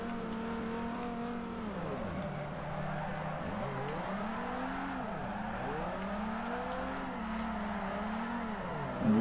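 A Datsun car engine in the Forza 4 racing game revs up and down through gears in repeated rising sweeps, a steady mid-loud drone with brief dips at each shift and no talk.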